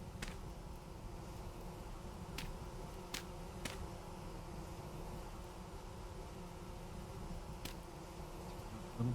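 Bees buzzing around a hive in the Vintage Story game, a low continuous drone at faint level, with a few brief sharp ticks scattered through it, no voices.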